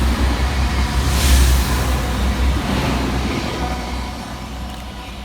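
Class 185 unit 185107 passes locomotive 39121 at Levenshulme station on a busy line, a steady broad rumble that swells near the start and then slowly fades, with no voices.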